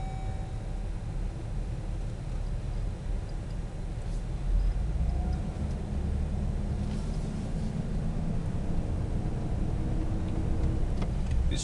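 A 2007 Chevrolet Silverado 2500HD extended-cab 4x4 with a 6.0 V8 cruises in four-wheel drive, heard as a steady low engine and road rumble with wind and tyre noise from inside the cab.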